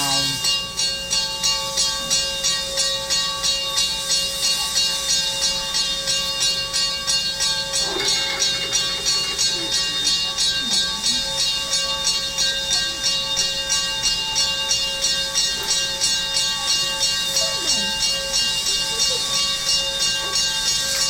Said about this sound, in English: former Canadian National locomotive 7470 moves out of the old Boston and Maine roundhouse